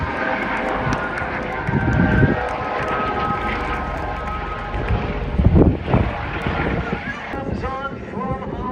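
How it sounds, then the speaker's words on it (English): A 450 hp radial-engine aircraft runs at full throttle during an air show, a loud sustained engine roar with wind buffeting and shifting pitch as it passes, louder surges near the middle. "450 horsepower, that radial engine at full tilt"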